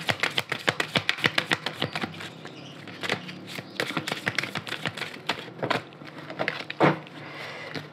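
A deck of oracle cards being shuffled and cut, a rapid run of crisp card flicks followed by softer scattered taps and slides, close and quiet with no talking.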